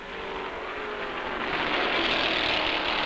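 Stock cars, including a Dodge, race in a tight draft through the turns of a speedway, a steady loud engine roar with no pauses and no voices.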